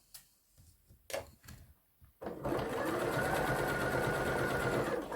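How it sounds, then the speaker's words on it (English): A sewing machine with a universal foot stitches binding onto fabric in a Hong Kong seam finish. A few soft clicks and taps come first, then a loud, steady, close-up mechanical whirring hum carries on to the end. "I'm going to stitch the binding on"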